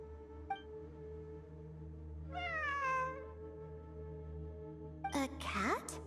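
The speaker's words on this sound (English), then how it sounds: "A cat?" A cat meows in the video game Genshin Impact during ruins exploration, two drawn-out, rising-falling mews a few seconds apart over a steady low in-game hum, fairly faint.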